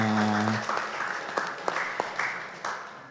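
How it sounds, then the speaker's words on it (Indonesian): Applause at a public service award ceremony in Yogyakarta marking the mall's third anniversary, a short burst of claps that starts beneath a fading tone and thins to scattered claps toward the end. "Tepuk tangan dong."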